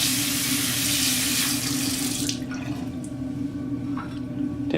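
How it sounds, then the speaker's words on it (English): Running tap water pours over a makeup brush being wetted at a sink, a steady close rushing stream that softens and thins after a couple of seconds into lighter splashing and trickling. "Again, wetting the brush."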